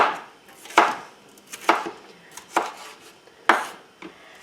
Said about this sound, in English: I'm just going to make slices